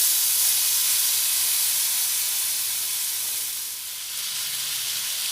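Washed, diced potatoes hit a hot pan for a Bengali papaya dalna with potatoes and chickpeas, giving a loud, steady, close sizzle and hiss that holds throughout and dips only briefly near the end.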